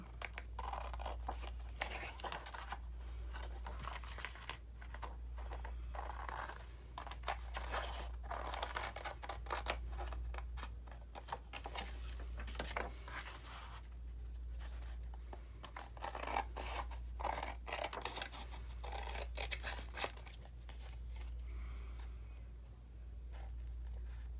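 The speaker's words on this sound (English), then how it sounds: "I'm just going to use scissors to do this, just trim these out" Scissors trim paper ephemera in a quiet room, giving repeated soft snips, rustles and scrapes of paper over a steady low hum, close and faint, with no voices.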